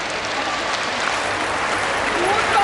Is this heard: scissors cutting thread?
no